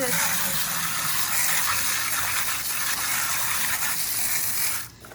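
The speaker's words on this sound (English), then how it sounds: "All of this stuff that's on here, you'll need to rinse off really good." Water from a hose gushes steadily over a dirty pool filter cartridge during rinsing, a loud continuous hissing spray that cuts off abruptly near the end.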